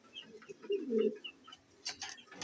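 A pair of Black Beauty pigeons coo softly, a few low, throaty murmurs rising to one fuller coo, faint and close, with light rustling and brief scraping noises afterward.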